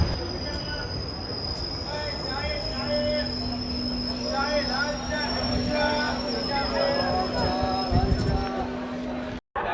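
A train pulls into Azimganj station in West Bengal, wheels squealing and rumbling on the rails, with a long sustained screech and clanks as it slows; voices chatter faintly in the background.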